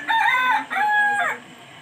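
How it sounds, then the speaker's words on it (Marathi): A rooster crows on a village morning in two long, loud calls, the second rising and trailing off, heard close by and clearly with no one talking. "जुन्या काळातील घड्याळ म्हणजे कोंबड्याचं आरवणं"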